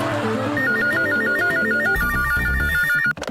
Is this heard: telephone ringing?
yes